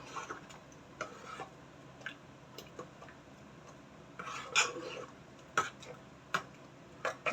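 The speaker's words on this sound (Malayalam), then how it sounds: "അര മിക്സ് ഒഴിച്ചത് എല്ലാം കൂടെ ഒന്ന് യോജിപ്പിച്ചെടുക്കാം" A spoon stirs ground coconut mixture into a pot of pumpkin, yam and cowpea erissery. Faint scraping is broken by light, irregular taps and clinks against the vessel in a quiet setting.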